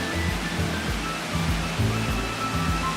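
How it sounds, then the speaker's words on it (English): Steady rushing splash of an indoor water fountain in a Miami shopping mall, a continuous broadband wash of falling water with no talk over it. "I particularly enjoy the water fountain at this mall"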